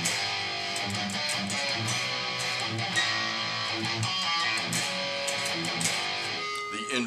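Distorted electric guitar playing a metal rhythm riff with regular power chords, a continuous driving chugging pattern with accented hits throughout.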